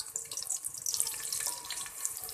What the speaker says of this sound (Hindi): अब मैं इसमें ये तकरीबन 2 दरमियाने साइज के ऑनियन थे, ये कट किए हुए थे, ये स्लाइस में ये डाल देते हैं।